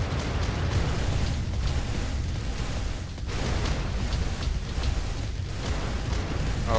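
Ship cannons in a naval video game fire and explode in a dense, continuous barrage of booming rumbles with some sharper bursts, loud and layered.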